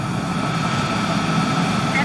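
A Cessna C-25C jet in flight at 13,000 feet northeast of O'Hare gives off a steady, even engine drone, with a voice talking over it.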